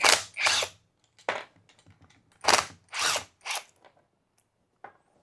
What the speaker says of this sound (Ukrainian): ми відкручуємо 4 гвинта на редукторі з лівої сторони. Ключем під 14.